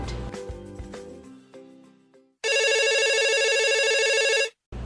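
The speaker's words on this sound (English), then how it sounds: "It's the sound of a telephone." A telephone rings in one sustained, loud electronic burst after a stretch of a different tonal chime, then cuts off abruptly.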